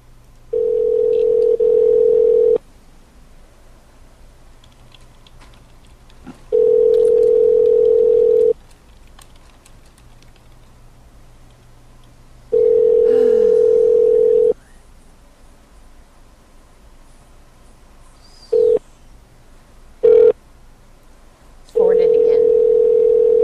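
Steady telephone tones, a sustained dial tone, sound in separate bursts between quiet gaps while a call back is placed, with a few short interruptions near the end.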